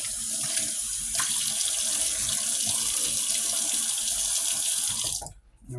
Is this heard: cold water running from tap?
yes